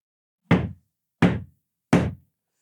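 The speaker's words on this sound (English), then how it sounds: "3 big knocks on the front door" Three heavy knocks on a front door at night, evenly spaced about three quarters of a second apart, each a sharp loud thud with a short decay, standing alone against silence.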